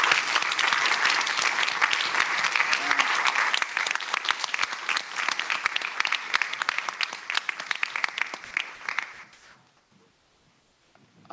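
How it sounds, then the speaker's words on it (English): Sustained audience applause at a TedFest gathering honoring Ted Adelson, dense and loud clapping for about nine seconds before dying away into near silence. "Can we give some applause to Laura Lynn?"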